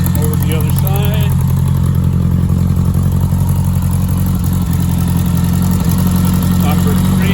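A four-cylinder car engine idles steadily up close, with a low, even rumble and clatter despite cylinders three and four dropping out intermittently, while someone talks over it.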